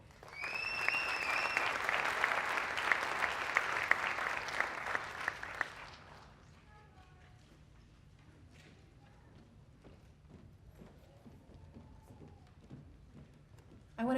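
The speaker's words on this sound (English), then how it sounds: "Round of applause, please." Audience applause at a Native American student recognition ceremony, a dense, steady clapping for about six seconds that then fades into quiet room murmur with scattered sounds.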